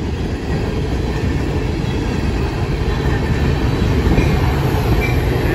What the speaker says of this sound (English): there's a westbound Metra commuter train headed for Aurora, Illinois, just stopping here